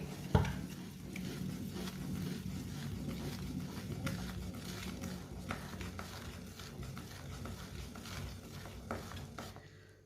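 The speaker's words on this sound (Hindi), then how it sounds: "इसे थोड़ा सा ना ऐसे मिक्स कर लेंगे" A spoon stirs thickened cooked jaggery in a pot, giving repeated scraping and clinking strokes against the metal with a soft bubbling sizzle beneath, close and fairly quiet, with an initial sharp knock.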